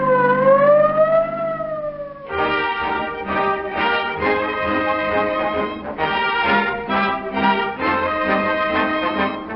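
An emergency car's wailing siren rises and falls, then switches to a rapid pulsing yelp, loud and close with no talking.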